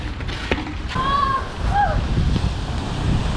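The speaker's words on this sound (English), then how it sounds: "The sound and the smell of the ocean." Ocean surf at a remote village shoreline in the Philippines, a steady broad wash of waves mixed with wind buffeting the microphone, joined by brief high whistling or bird-like calls.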